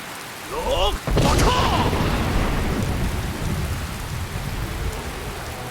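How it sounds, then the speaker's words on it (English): Steady rain pours down in Skyrim, a dense even hiss throughout, with a brief crack and rumble of thunder near the start. "We're getting rid of the rain again."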